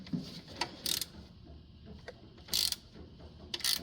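Socket ratchet working the oil drain plug loose on a John Deere Gator XUV 825i during an oil change: a few short bursts of ratchet clicking, close and fairly quiet, over low background hum.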